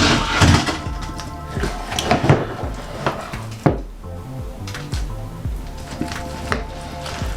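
Vegan kimchi ingredients are mixed in a bowl, with busy clinks, knocks and wet squishing of vegetables, a sharper knock midway and faint background tones.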